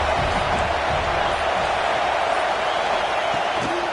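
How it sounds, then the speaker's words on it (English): Stadium crowd noise in an American football video game, a dense steady roar of cheering held at constant loudness throughout, with no clear individual voices standing out. "Big 3rd down as the crowd gets behind this defense."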